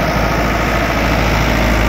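A Sonalika Tiger DI 55 58 HP tractor runs with an 8-foot rotavator fitted, its diesel engine giving a loud, steady low rumble close by without a break.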